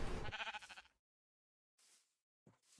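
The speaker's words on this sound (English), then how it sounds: "Sheep, come hither." Sheep bleating in Minecraft, a couple of close, wavering bleats in the first second, then short, quieter blocky game sounds after a silent gap.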